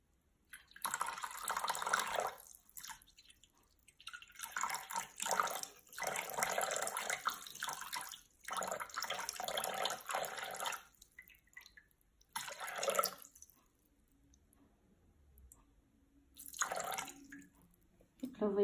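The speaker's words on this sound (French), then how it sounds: "Donc je commence par mettre l'eau. Donc là je vais mettre 300 g." Water is poured in several bursts into a Thermomix bowl while weighing out 300 g for bread dough, a splashing, trickling flow that starts and stops with short pauses.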